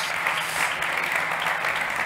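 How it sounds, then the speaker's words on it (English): Steady audience applause after a presentation, a dense, even wash of many hands clapping at close range with no pauses. "Big applause for her."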